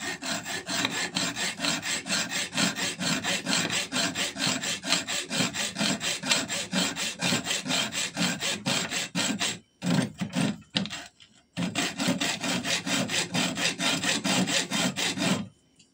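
A hacksaw cuts through aluminium tube with steady back-and-forth rasping strokes, close and continuous, that break off briefly near the end before resuming.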